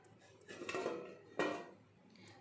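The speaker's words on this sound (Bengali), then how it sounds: "এবার আমি খুব সামান্য কিছু সময় একটু ঢাকা চাপা দিয়ে দেব।" A pot lid set down over a pan of semolina cooked with about two cups of water, giving clattering metal knocks, one solid clank near the middle and lighter rattles around it, close by with no talk.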